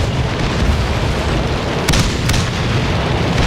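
M24 Chaffee light tank firing in a video game battle, with dense continuous rumbling explosions and a couple of sharper blasts cutting through, loud and close without any talking.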